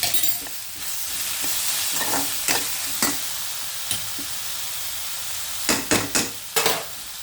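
A tomato mixture with coriander leaves and salt sautés in a pan, giving a steady close sizzle broken by intermittent scraping and tapping as a spoon stirs it.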